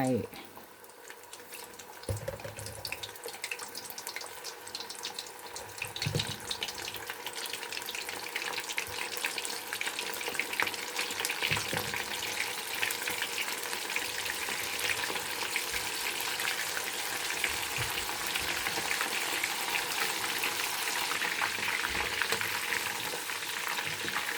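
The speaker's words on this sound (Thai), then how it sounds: "น้ำมันเราร้อนแล้ว ปลาลงไปทอดได้" Fish fries in hot oil in a home kitchen pan for a sukiyaki-sauce dish, a dense crackling sizzle that swells after the first few seconds and then holds loud and steady throughout.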